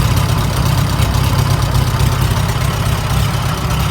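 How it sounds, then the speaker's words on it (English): A Farmall tractor engine runs steadily at idle with a loud low rumble, while a worn alternator adds a continuous mechanical racket over the drone; no voices. "that alternator's making some racket while it's running"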